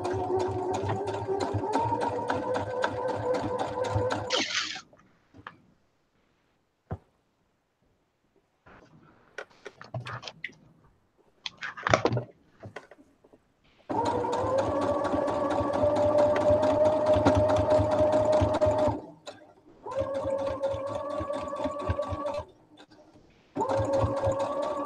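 A sewing machine stitches a patchwork pillow in several bursts of rapid, steady whirring, separated by pauses filled with faint handling clicks and a brief louder rattle.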